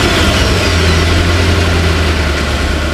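A car engine runs after being repaired, holding a steady, loud idle with a deep low hum for the whole stretch. No one speaks.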